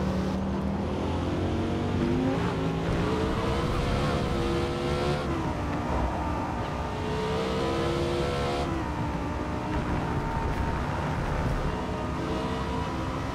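A Formula 1 car from an F1 video game laps the Yas Marina Circuit, its engine revving loud and close with rising and falling pitch through gear changes and corners, continuous throughout.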